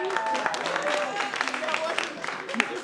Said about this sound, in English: Clap it up one more time for Marlena